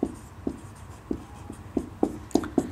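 A chemical reaction being written on a board makes a string of short tapping strokes, about nine in under three seconds, uneven in rhythm and growing slightly louder, close and with nothing else heard.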